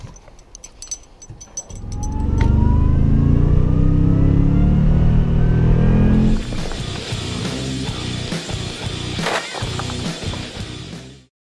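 An old Toyota FRS engine cranking and catching after being dug out of snow, then a loud rising rev that holds steady before dropping to a rougher idle with knocks and clatter, close by and without talk.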